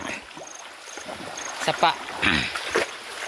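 Water trickles and burbles steadily in a shallow creek, with occasional small splashes and people talking nearby over the flow.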